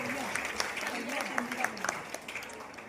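An audience clapping at a welfare-scheme guidance camp in Vadodara, scattered claps rising over a voice that keeps talking throughout.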